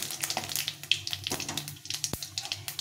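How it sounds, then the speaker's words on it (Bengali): Dry red chilli, white cumin seeds and two bay leaves sizzle in hot oil, giving a soft, quiet crackle with frequent small pops and spits and one sharper snap. "তেলটা গরম হয়ে এসে এখন আমি এখানে একটা শুকনো লঙ্কা ফাটিয়ে দিয়েছি, আর কিছুটা জিরে, সাদা জিরে, আর দুটো তেজপাতা একটু নেড়ে চেড়ে নিয়ে"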